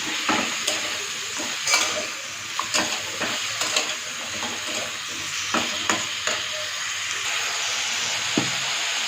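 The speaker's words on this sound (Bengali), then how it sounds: "তারপরে কেটে রাখা টুকরো গাজর আর আলু আমি দিয়ে দিলাম আর সাথে বেগুন দিয়ে দিলাম আর সাথে পরিমাপ মতো লবণটা দিয়ে ভালো করে আমি নেড়ে নিচ্ছি" Carrot, potato and eggplant pieces with salt are stirred while frying in a pan, with steady sizzling and repeated sharp scrapes and clinks of a utensil against the pan throughout.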